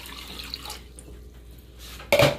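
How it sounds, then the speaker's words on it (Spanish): Two and a half cups of water pour into a cooking pot for plantains in syrup, a soft trickle early on, then a brief loud splashing rush near the end. "En este momento voy a ponerle 2 tazas y media de agua."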